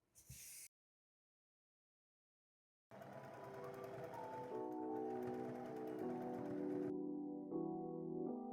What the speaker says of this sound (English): Now we will stitch it onto the fabric with the sewing machine.